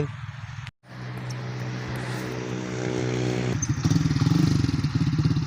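A Honda Sonic motorcycle fitted with a sidecar rides around nearby, its steady engine drone holding through a brief cut and then growing louder and rougher as it revs.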